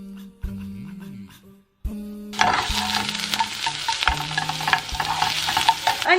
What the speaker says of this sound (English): onions are cooking away nicely